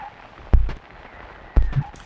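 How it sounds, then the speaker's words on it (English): Stickers on a spinning turntable record, picked up by a double tone arm setup with contact mics, give two sharp thumps about a second apart with brief rattly tails over a faint hum. "I decided to build a double tone arm system, which would then pick up the sounds of the stickers"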